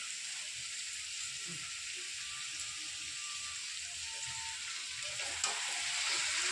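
Chicken pieces sautéing in a spice paste in a pan, a faint, even background sizzle with soft occasional stirring sounds.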